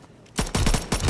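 Rapid bursts of gunfire from a plane in Call of Duty WWII Zombies, loud and close, breaking out after a short quiet start and repeating in quick volleys.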